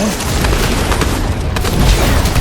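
Gunfire and explosions from a Fortnite match, a dense continuous barrage of booms and rapid shots, loud and close, with a voice talking faintly underneath.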